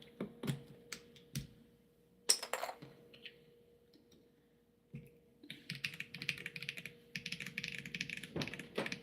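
Bursts of clicky mechanical keyboard typing, loud sharp keystrokes in uneven clusters separated by short pauses, growing into a faster run of taps toward the end.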